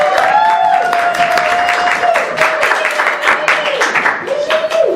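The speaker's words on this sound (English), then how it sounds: "I think she deserves a round of applause." A crowd at a campaign event for a Harare Central parliamentary candidate applauds loudly and close, rapid claps layered with a steady high sustained tone that drops out briefly and returns.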